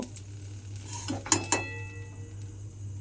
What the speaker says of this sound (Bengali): এইবারে পটলগুলোকে তুলে আলাদা করে রেখে দেব।